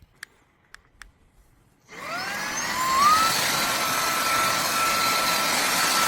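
After a few faint clicks, a REDTIGER cordless handheld car vacuum switches on and whines up to a steady, loud suction roar as it cleans carpet, with no talking.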